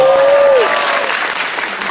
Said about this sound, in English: Give her a Stein cosplay round of applause